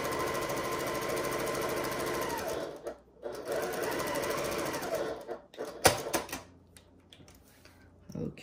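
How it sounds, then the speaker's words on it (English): A sewing machine stitches a quilt seam, running in a steady, rapid mechanical chatter before slowing, stopping and giving a few last uneven clicks. "and then I'm going to complete the seam."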